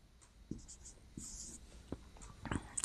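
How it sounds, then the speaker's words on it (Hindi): Writing on a board during a lesson on blood-relation problems: soft, close scratches and taps of a pen or marker in short separated strokes, faint and quiet with an occasional whisper-like breath. "चलिए इसको कहीं इधर लिख देते हैं।"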